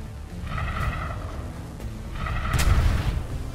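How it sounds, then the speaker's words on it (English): Rocket volleys fired in the shooter Xenoraid on PS4, two loud booming bursts roughly two seconds apart over a steady rumbling game soundscape, the second blast stronger and sharper. "Firing rockets."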